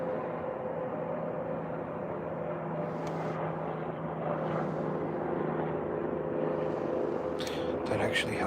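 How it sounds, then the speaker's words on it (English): Steady low rumble of distant traffic on Interstate 70 in Ohio, a continuous wash of car noise with faint voices and brief higher sounds near the end. "You can hear them cars behind me."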